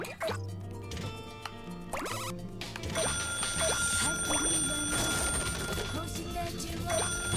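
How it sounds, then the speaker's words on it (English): Persistent ringing tones in the video game Katamari Damacy, layered over busy, bright game music and effects throughout. "Infernal ringing."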